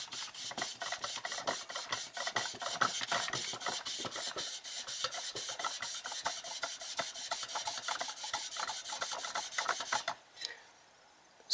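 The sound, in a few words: rubbing bike spoke with WD-40 rag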